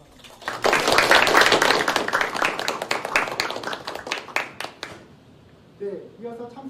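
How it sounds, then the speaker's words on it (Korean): A crowd claps to welcome student representatives at a university student committee meeting, a burst of dense applause that thins into scattered claps, followed by a brief voice afterward. "큰 박수로 환영해 주시기 바랍니다"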